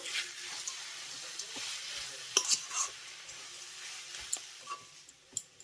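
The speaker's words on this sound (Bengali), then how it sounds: "এবার একবার এই উপকরণগুলো ভালো করে মিশিয়ে নেব" Vegetable chop filling ingredients, including fried peanuts and chaat masala, being stirred together in a bowl, a soft continuous scraping with a few sharp clicks of the spoon against the bowl, close and fairly quiet.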